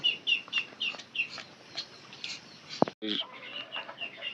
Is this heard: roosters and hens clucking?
yes